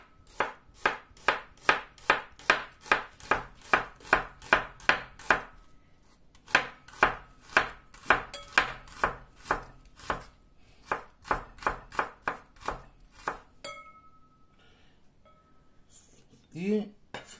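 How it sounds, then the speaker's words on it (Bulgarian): A knife cuts a halved onion into thin half-moons on a board, giving steady, evenly spaced chopping knocks, close and distinct, with one short pause and a slower run of cuts before a small clink near the end. "Взимаме главата лук, разрязваме две и я режем на полумесеци,"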